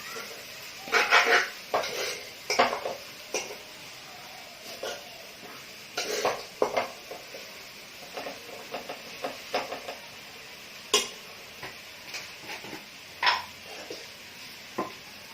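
A samosa vegetable filling is mixed in a pan, giving repeated clinks and scrapes of a spoon against metal in an irregular rhythm, close by and moderately loud, with brief faint sounds in between.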